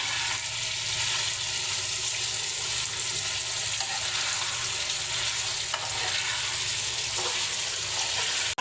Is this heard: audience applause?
no